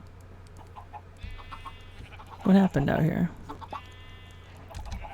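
Game chickens in FTB (Feed The Beast) Minecraft give a few short clucks at moderate distance, with a louder burst of activity in the middle, under occasional talk from a player.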